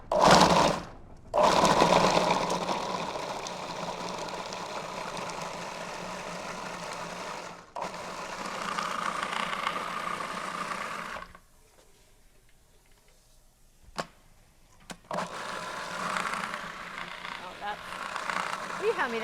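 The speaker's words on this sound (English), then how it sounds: "We're just going to grind this up and make our apple sauce." Blender grinding apples into apple sauce, running as a continuous whirring motor drone that stops briefly twice before starting again, with people talking nearby.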